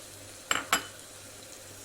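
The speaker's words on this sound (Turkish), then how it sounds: "Hemen üzerine hazırladığım şöyle kaşar peynirlerini de boşaltıyorum." Grated kashar cheese is tipped from a dish onto spinach and eggs cooking in a pan, giving two close clinks of the dish striking the pan rim over a low, steady sizzle.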